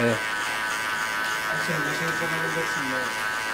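An electric hair clipper buzzes steadily through a zero cut, a close, constant whine with small shifts as it moves over the head, while someone talks over it.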